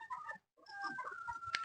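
Chickens cluck at a hut on a game farm in a few short bursts, then a busier stretch of overlapping hen calls and rustling after a brief pause, close and moderately loud.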